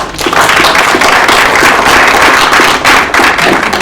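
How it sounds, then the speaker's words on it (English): Loud, sustained audience applause at the close of a university event program, a dense roar of many hands clapping at close range throughout. "One more round of applause for all of our"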